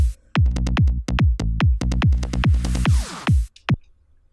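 A punchy synthesized progressive psytrance bassline of rapid rolling plucks, layering a clicky main bass over a sub, in a driving rhythm, with a rising swept noise near the end before it cuts out.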